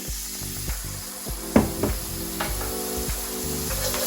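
Almond milk poured slowly into a hot pan for creamy au gratin potatoes, giving a soft sizzle with light clinks and stirring scrapes, close and moderately quiet, with no talking.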